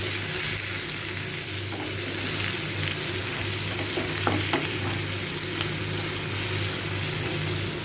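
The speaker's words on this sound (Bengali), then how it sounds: "আমি এটা আরও 2 মিনিট একটু ভেজে নেব" Teasel gourd pieces fry with turmeric and chopped green chillies in a pan, a steady close sizzle running throughout with occasional scraping and stirring clicks of a utensil, no voices.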